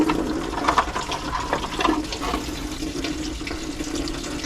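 Antifreeze pouring from a radiator petcock into a funnel under a 1986 C20 Suburban, a continuous, close splashing trickle of liquid with no talk over it.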